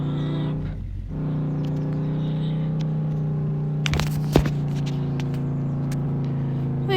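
Pickup truck driving on a road, heading out to a farm: a steady low engine drone and tyre rumble holding throughout, with a brief louder scrape or clunk near the end and no talking.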